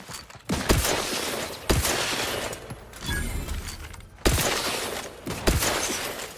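Repeated bursts of gunfire in The Outer Worlds 2 shooter game, loud volleys spaced a second or so apart against a busy background of combat effects, with no talk.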